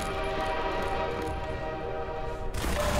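In the Half-Life 2 Deathmatch video game, a loud sustained train horn blares over the rumble of a passing train, the tone holding steady before cutting off sharply near the end as the roar continues.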